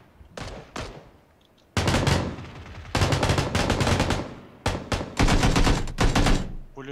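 Machine gun fire in a video game, several loud rapid automatic bursts separated by short pauses, close and dominant.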